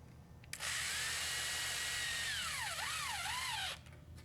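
A power drill drives drywall screws through resilient channel into wall studs, one continuous loud whine of about three seconds that rises, holds, then dips and wavers in pitch as the screw seats before stopping.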